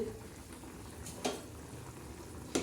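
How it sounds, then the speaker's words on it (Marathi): Drumstick pods cooking with moong dal bubble in a pot, a soft, faint, steady simmer broken by two brief louder bursts, quiet and close with no talking. "अरे वा मस्तपैकी छान अशा उकळत आहे"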